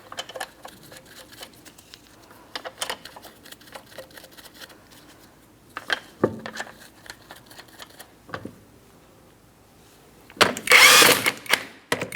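A power tool spins 19mm lug nuts onto the rear wheel of a 2003-2007 Cadillac CTS. Scattered faint clicks and clinks come first, then one short, loud, close buzzing burst near the end.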